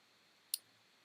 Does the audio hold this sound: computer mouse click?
yes